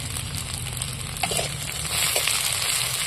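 Chopped garlic frying alongside onions in oil, a quieter steady sizzle with a couple of soft stirring scrapes, close by with no voices.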